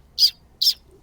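A person imitating a sparrow's call, two short high chirps about half a second apart, close and fairly loud in otherwise quiet surroundings.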